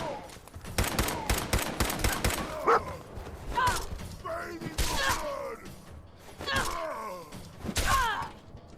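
A dog in Fallout 4, played in survival mode at the Weston Water Treatment Plant, barks in short bursts amid thuds and gunfire-like impacts, and someone talks over it.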